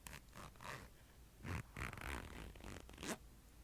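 A zipper on a fabric bag is drawn open in several short, close rasping pulls separated by brief pauses, quiet and intimate with no talk.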